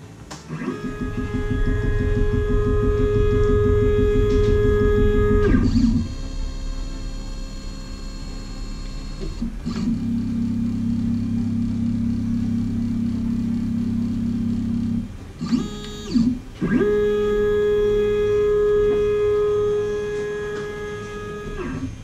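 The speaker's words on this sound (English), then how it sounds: "Hit OK and it'll head over to the BitSetter to set your Z depth for you." A Shapeoko 3 CNC router travels across its gantry toward the BitSetter probe, its stepper motors giving loud, steady whining hums that shift pitch between moves, with brief pauses and clicks between segments.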